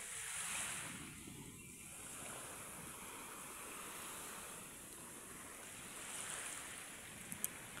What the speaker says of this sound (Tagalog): Payapang payapa yung dagat.